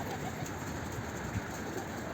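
Pigeon cooing, soft and faint, sits low under a steady background hiss with no clear voices.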